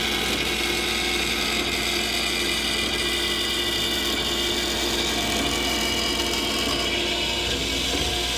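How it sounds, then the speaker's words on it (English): A power tool cuts a metal piece for a go-kart bracket support, producing a dense, steady grinding whine with a constant high rasp that stays loud and unbroken throughout. "So right now I will be cutting a piece to support the bracket."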